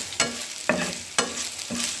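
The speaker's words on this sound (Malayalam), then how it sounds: "ഇനി നമുക്കിതൊന്ന് വറുത്ത് ഒരു ബ്രൗൺ കളർ ആവുന്നവരെ വറക്കണം കേട്ടോ." Grated coconut roasting in a pan until brown for a pumpkin and cowpea erissery, with four evenly spaced scraping stir strokes over a soft, steady sizzle.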